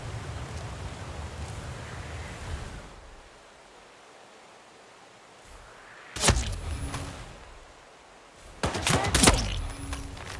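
Gunfire in the video game Hitman Freelancer, two sharp bursts of shots standing out from a low rushing ambient bed, the second cluster louder and more sustained, no talk.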